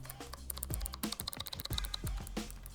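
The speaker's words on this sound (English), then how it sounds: "I think this is a mechanical keyboard." Typing on a thin, sleek mechanical keyboard with blue switches: quick, crisp clicky keystrokes in an uneven burst, close and clear, with no talking.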